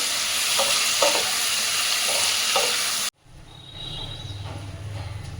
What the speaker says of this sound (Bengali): এটা আমি একটু নেড়ে দিলাম